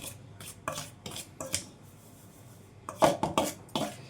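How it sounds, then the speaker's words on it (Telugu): Dry spice mix stirred with a metal spoon in a pan for ivy gourd fry, giving a series of short scraping, clinking strokes in two bursts with a quiet gap between them. "పొడిగా ఉండేటప్పుడు ఈ విధంగా కలిపేసుకోండి మొత్తం కూడా"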